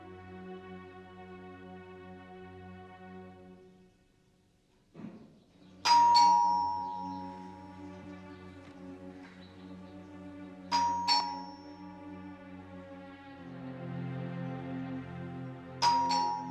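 A doorbell chimes three times at intervals, bright ding-dong tones ringing out over a steady low background hum.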